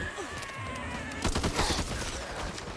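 Rifle fire from an M44 in the video game Back 4 Blood, a few sharp cracks that grow into a denser burst of shots in the middle, over a constant background din.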